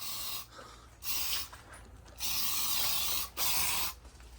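An aerosol can of flying insect killer sprays in several hissing bursts of varying length, loud and close, with short pauses between each spray.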